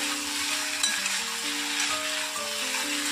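Potato chunks with a slit green chili fry in oil for aloo posto and are stirred in the pan, giving a steady close hiss of sizzling with faint scraping movement and no voices.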